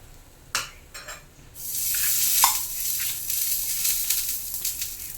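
Hot oil poured over apple pickle in Kerala style, then mixed: a few soft taps and scrapes, followed by a loud, steady sizzle and crackle that carries on to the end, close by and without talk.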